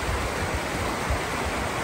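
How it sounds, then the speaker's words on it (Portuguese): A river runs just above the Cachoeira do Moinho waterfall at Parque do Caracol in Canela, making a dense, constant rush of flowing water close by with no voices. "eu já estou aqui na parte de cima, no rio que desce para a Cachoeira do Moinho"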